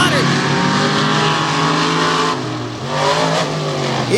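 Two Ford monster trucks launch off the start on a grass track at a Bloomsburg, Pennsylvania event, big engines roaring loud and steady with revving changes, while an announcer talks over the racket.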